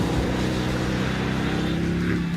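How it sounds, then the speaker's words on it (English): Engine and exhaust of a 2016 Mercedes-AMG GT S sports car, a loud, steady, deep rumble held close throughout. "just listen to that ridiculous engine and exhaust note"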